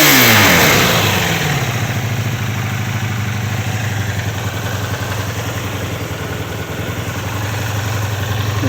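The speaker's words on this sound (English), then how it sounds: "Give her a little rev." A 1984 Honda Interceptor VF500F motorcycle engine under restoration revs sharply and then settles into a loud, steady idle. The rumbling, clattery tone is close by and continuous, with no talking.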